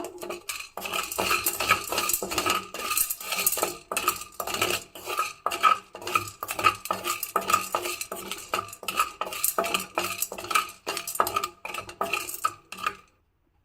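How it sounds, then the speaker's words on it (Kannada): Sesame seeds with orange colouring stirred in a pan on a gas stove for sugar-coated kusurellu, a steady close stream of rhythmic metal scraping and rattling seeds that stops abruptly at the end. "ನೆಕ್ಸ್ಟ್ ಇನ್ನೊಂದು ಸ್ವಲ್ಪ ಕಾಳುಗಳನ್ನು ಹಾಕ್ಕೊಂಡು ಆರೆಂಜ್ ಕಲರ್ನ ಮಿಕ್ಸ್ ಮಾಡಿಬಿಟ್ಟು ಹಾಕ್ತಾ ಇದ್ದೀನಿ"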